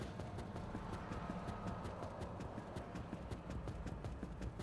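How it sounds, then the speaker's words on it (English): Steady, evenly paced footsteps from a character walking in the video game Scarlett Nexus, a continuous run of crisp taps over a low ambient hum, with no talking. "I got zoned out for a second, listening to their footprint, their footsteps"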